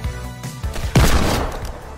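Gunfire in a creative-mode shooter video game match, with a loud burst of shots near one second and several thinner pops before it, set against a steady game soundscape.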